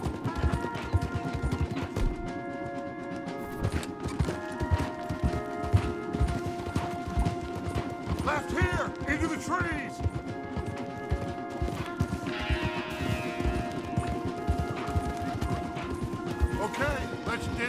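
Horses gallop hard in the video game Red Dead Redemption 2, a rapid, continuous clatter of hooves with crashes and short voice calls mixed in over the ride.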